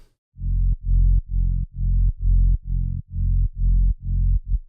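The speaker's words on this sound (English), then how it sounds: "But for this track I just used a sub bass to cover all low frequencies." Deep synthesized sub bass for a driving techno track pulses in a steady rhythm, about ten rounded low notes with small clicks at each onset, playing alone.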